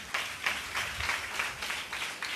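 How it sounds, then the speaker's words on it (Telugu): A church congregation claps loudly during a Sunday thanksgiving worship service in Kandrika, producing a steady, rhythmic beat of bursts that repeats evenly and fairly quietly throughout. "గట్టిగా చప్పట్లు కొట్టండి"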